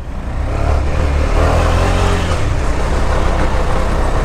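A KTM Duke 390 BS6 motorcycle engine pulls steadily while riding off-road, a loud, continuous low drone with wind rush, no talking.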